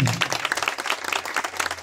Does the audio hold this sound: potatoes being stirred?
no